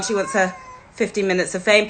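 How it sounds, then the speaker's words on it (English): A pet cat meows in the background while a voice speaks over it, the mewing faint and intermittent beneath the talk. "That's my cat meowing in the background."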